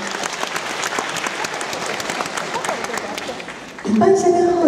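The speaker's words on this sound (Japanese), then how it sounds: "拍手でお迎えください。" An audience at a formal ceremony in Odawara claps steadily for about four seconds, a dense, even patter of hands, before a voice begins speaking at the end.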